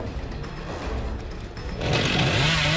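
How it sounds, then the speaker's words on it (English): Chainsaw in the horror video game Dead by Daylight, a buzzing motor that hums steadily and then revs up louder and higher near the end, heard without talk. "Chainsaw!"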